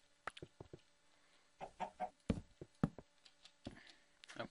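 A Minecraft chicken clucks repeatedly in short, choppy bursts, close and clear, with a cluster of louder clucks near the middle and a few more toward the end.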